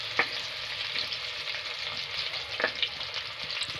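Chopped onions, nigella seeds and a bay leaf fry in oil with a dense, close crackling sizzle, scattered sharp pops and a couple of utensil clicks.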